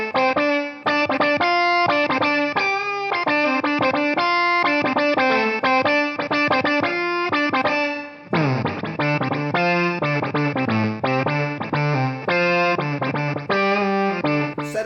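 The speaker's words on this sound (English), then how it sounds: "Setting number 5 is the classic Electro-Harmonix mini synth." An Electro-Harmonix Synth9 pedal on its classic mini synth setting gives a guitar a synth-like tone, playing a steady run of bright, buzzy notes with a smooth processed character. It is loud and continuous, with a brief dip partway through.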